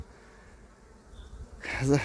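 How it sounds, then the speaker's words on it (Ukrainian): Agitated honeybees in a hive during an evening inspection, a steady close buzzing drone that swells louder and rougher near the end, with a brief voice-like sound. "бджолки трошки хвилюються"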